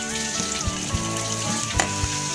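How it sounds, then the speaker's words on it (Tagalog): Onions and tomatoes fry in a pan, giving a steady, close sizzle and crackle with occasional soft stirring knocks, with no talking over it. "Okay, lutuin natin itong kamatis."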